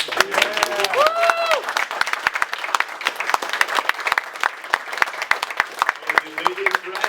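Convention panel audience applauds the writers of the 1985 Thundercats cartoon, lively clapping with scattered loud individual claps and voices calling and talking over it.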